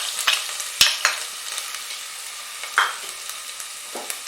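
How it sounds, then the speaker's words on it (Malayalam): Garlic hits hot oil in which mustard seeds have already popped, sizzling close up with scattered sharp crackles and spits over a soft frying hiss, no voices. "കടുക് പൊട്ടിയിട്ടുണ്ട്. നമുക്ക് വെളുത്തുള്ളി ഇടാം."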